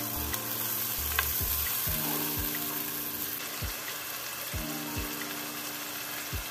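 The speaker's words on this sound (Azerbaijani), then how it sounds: "Mən konservləşdirilmiş pomidordan istifadə edirəm. Bir yerdə yaxşı qovrulur." Canned tomatoes frying in a pan for a Georgian kharcho soup, a steady close sizzle with scattered crackles and occasional scraping stirs, no voices.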